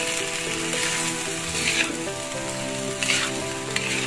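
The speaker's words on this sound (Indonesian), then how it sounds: "Nah, kita aduk seperti ini." Rice being stirred in a pan with coconut milk for nasi uduk, a steady bubbling sizzle throughout with soft scraping strokes, close and fairly loud, no voices.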